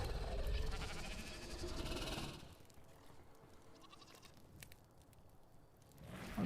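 Sheep bleating in the video game ARK Survival Ascended, one loud bleat at the start, then softer bleats and game ambience, with another call beginning at the end.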